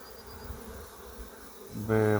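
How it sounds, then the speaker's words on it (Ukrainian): Buzzing of honeybees carrying pollen at the hive entrance, a low steady drone that swells louder toward the end as bees fly close. "Багато бджоли з пилком."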